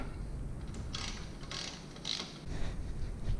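Ratchet loosening bolts on a Yamaha Warrior XV 1700 big bore engine, faint, close clicking strokes in a few short bursts.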